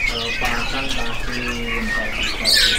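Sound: Bali myna calling at a bird market

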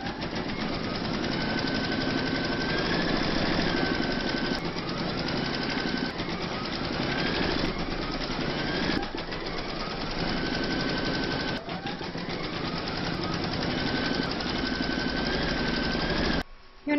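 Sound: embroidery machine stitching a hooped Celtic topper

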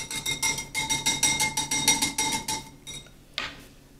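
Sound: whisking sweet and sour sauce

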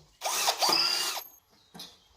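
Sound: power drill drilling holes in scrap steel pieces

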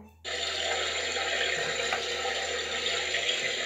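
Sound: water rinsing soap off during a bath

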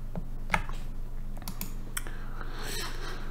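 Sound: keyboard arrow keys pressed to scroll a PDF

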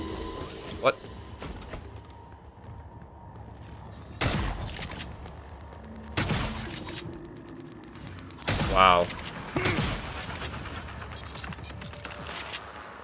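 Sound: shotgun shots fired at a mimic in the video game Prey

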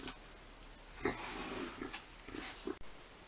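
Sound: Vietnamese pot-bellied pig grunting

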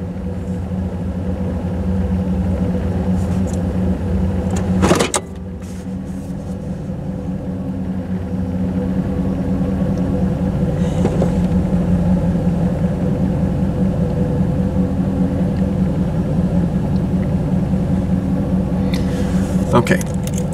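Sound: Chevrolet Camaro 305 TPI engine idling

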